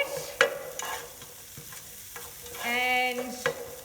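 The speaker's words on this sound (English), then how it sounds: "we're just going to stir fry those a little bit" Onion and vegetables stir-fried in a hot pan for a beef stir fry: steady, soft sizzling with sharp spatula scrapes and taps against the pan, close and fairly quiet, with no talking.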